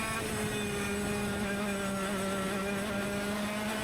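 Retro racing kart engine droning steadily on a track at Hooton Park, a constant buzzing whine with strong harmonic tones, fairly near and unbroken, with no voices.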